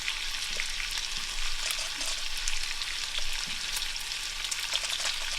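Thinly sliced peeled potatoes fry in Crisco pure canola oil in a non-stick skillet, giving a steady, close sizzle and crackle throughout with occasional stirring and no talk.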